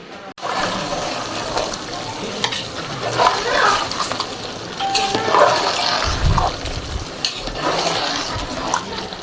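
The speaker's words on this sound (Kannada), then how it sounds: "ಸ್ವಲ್ಪ ಇದು ಬಿರಿಯಾನಿ ಇದು ಅಲ್ಲಾಡ್ಸ್ಕೊಳ್ಳೋಣ" A spoon scrapes and stirs biryani in a pot, the mixing thick and wet against a continuous sizzle, close and steady with a few louder scoops and clanks.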